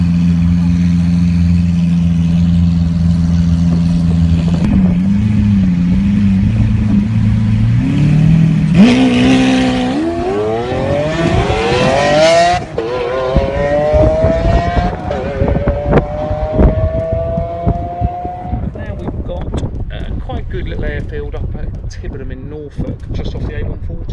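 Cars rev hard and race at a rolling half-mile speed event, engines rising in pitch through the gears as they accelerate past, loud and close under steady wind noise on the microphone, with people speaking over the roar.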